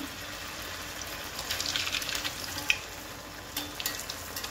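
Paneer cubes deep-frying in hot oil for crispy paneer 65, a steady close bubbling sizzle with soft crackles and a few sharper pops, no voices.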